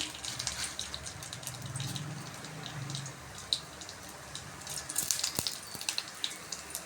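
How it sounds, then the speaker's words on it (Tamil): Urad dal and cumin seeds fry in hot oil for a potato poriyal, making a steady close sizzle with scattered crackles and pops, and no voices. "உளுந்தும் சீரகமும் நல்லா பொரிஞ்சு வருது"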